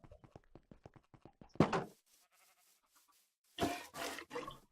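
Cows in the Minecraft Sky Factory 4 game give short, repeated lowing calls in a steady run, followed by a few louder, longer moos.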